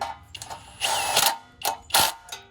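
A socket wrench ratchets in a few short bursts of metallic clicking while sockets are swapped on Briggs and Subaru generators. It comes up close and fairly loud in four separate runs, with quiet gaps between them.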